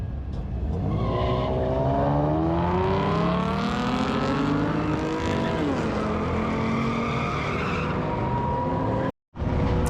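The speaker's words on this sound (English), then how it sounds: "check out some drag racing. Saw some cool cars, doing some pulls." Several loud car engines roar and rev upward together at a drag race, their pitch climbing through the gears as cars launch hard, ending with a brief cut.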